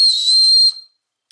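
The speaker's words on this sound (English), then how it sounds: "Yeah, boy, it's high-pitched." One sharp, high-pitched blast from a small survival whistle, the kind built into a compact compass and thermometer gadget, held steady for under a second and then cut off abruptly.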